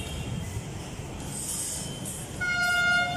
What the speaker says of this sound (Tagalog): Parang naglakad yung train na to ah.